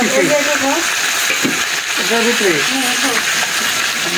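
Snakehead fish frying in hot oil, a loud, steady sizzle close by, with a voice speaking over it at times.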